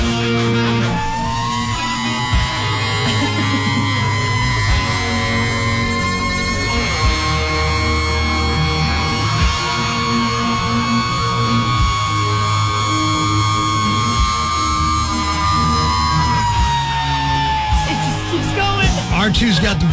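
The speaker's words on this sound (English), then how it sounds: "There's an iconic scream in Welcome to the Jungle." A long, sustained rock vocal scream from Axl Rose in Guns N' Roses' "Welcome to the Jungle," held loud over dense distorted guitars and drums for the full stretch.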